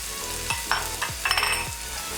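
Thinly sliced bitter gourd sizzles steadily in a hot pan while a spatula scrapes through it in regular strokes, roughly every half second, close and clear with no talking.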